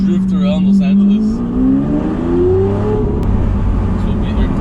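A Lamborghini Aventador revs hard while drifting, its engine note climbing steadily in pitch up close, with people shouting and talking over it.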